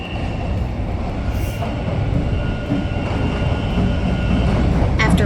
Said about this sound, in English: After one long, squeaky train ride, we make it up to a hockey game